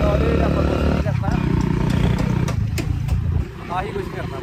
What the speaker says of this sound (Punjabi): ਆਪਣੇ ਮੋਟਰਸਾਈਕਲ ਦੀ ਆਵਾਜ਼ ਚੈੱਕ ਕਰਾਓ